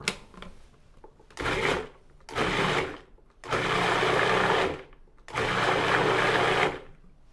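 Food processor whirring as it mixes ice cream ingredients with sweetened condensed milk, four loud bursts of motor noise starting and stopping, growing longer each time, close by with short quiet gaps between pulses.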